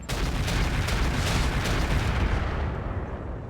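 An AC-20 autocannon fires in the RogueTech mod of the BattleTech game, a loud rolling barrage of heavy booms that tails off over a few seconds, with no voices.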